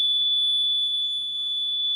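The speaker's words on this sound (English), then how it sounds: "the buzzer is making the buzz sound" An electronic buzzer in a sensor circuit project sounds one continuous, piercing, steady high tone at close range, alone and without talk.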